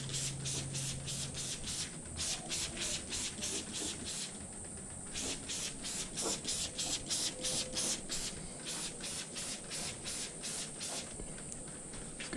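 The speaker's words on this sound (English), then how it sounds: "I'm just going to spray it" Carpro Multi-X all-purpose cleaner is sprayed onto the engine bay of a Mitsubishi Evo X and Ralliart in rapid repeated trigger squirts, each a short close hiss in a steady rhythm with a few brief pauses.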